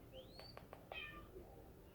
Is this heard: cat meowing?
yes